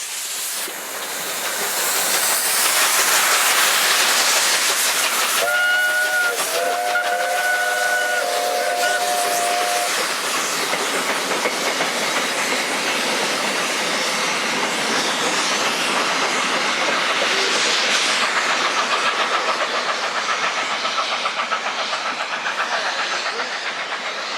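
A pair of South African GF Garratt steam locomotives working the Cape Natal line near Riverside sound a brief two-tone whistle, then keep up a loud, steady roar of exhaust and hiss as they run past.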